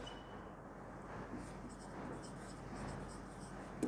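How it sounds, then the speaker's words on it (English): A teacher writes on a classroom board, soft scratching strokes in short bursts, close and fairly quiet over faint room noise. "See, here I write it down."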